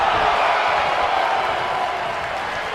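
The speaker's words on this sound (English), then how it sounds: "The crowd never gets tired of The Rock's antics" Arena crowd in the WWE 2K19 wrestling video game cheers and applauds in a dense, continuous roar that swells loud at first and eases slightly, with faint commentary talk underneath.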